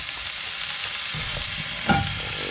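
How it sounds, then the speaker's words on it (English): Butter melting and sizzling in a pan with rosemary and garlic while venison is basted, a close, steady frying hiss with a brief louder clink near the end. "Drop that butter in."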